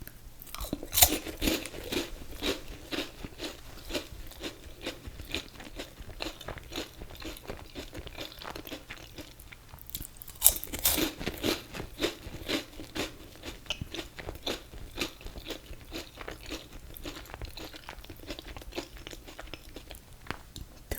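Fun-size Halloween candy being crunched and chewed right up close, with a dense, steady run of crisp bites and wet mastication that never lets up, and no talking.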